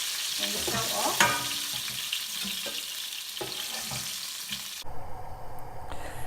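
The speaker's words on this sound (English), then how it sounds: "another reason why we fry the brinjal ahead of time" Brinjal (eggplant) frying in a pan gives a steady, loud sizzle with occasional stirring scrapes, ending abruptly as the heat is cut and only a quieter residual crackle remains.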